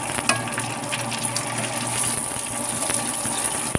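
Rice paper chips frying in hot oil, a steady crackling sizzle with scattered pops running throughout, fairly close and without talk.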